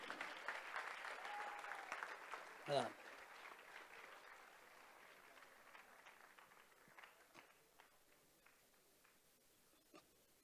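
Polite audience clapping at a Nagpur quiz competition prize ceremony for the runner-up team, fairly faint and distant, thinning out over the seconds with a single sharp knock early on.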